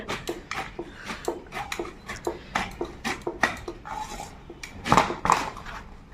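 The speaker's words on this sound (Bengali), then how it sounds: "তো প্রথমে আমি কাঁঠালটা কেটে নেব।" A small, young, sticky jackfruit being cut with a knife gives a run of close, irregular knocks and crunching chops, with a couple of sharper cuts near the end and no talking.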